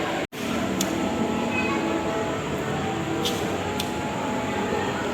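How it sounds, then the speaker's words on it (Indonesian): Bengawan passenger train rolling into a station from the east, a steady loud rumble of wheels on track with a few brief high squeals, no talk. "Ini dia dua dari arah timur masuk kereta api Bengawan."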